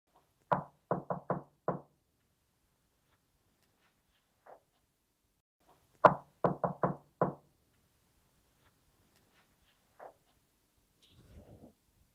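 Two bursts of sharp knocks at a reputedly haunted hotel during a paranormal investigation, one group of four quick raps and later a group of five, loud and close, followed by a few faint isolated taps in an otherwise quiet room.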